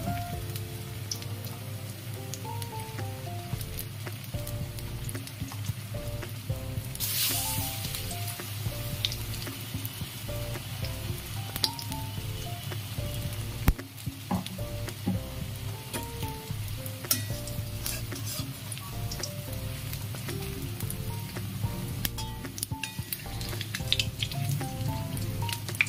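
A jute leaf mixture sizzles and spatters in hot oil in a wok, a steady close frying hiss with occasional stirring scrapes and soft music underneath.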